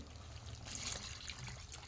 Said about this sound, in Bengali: দিয়ে দিলাম হালকা পরিমাণের পানি।